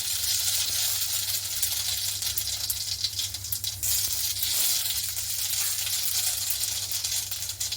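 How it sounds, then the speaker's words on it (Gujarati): Mustard seeds sizzle and crackle in hot oil for Gujarati khaman dhokla, a continuous bright hiss with scattered pops, close up and alone. "તો આપણે તેમાં રાઈ એડ કરીશું."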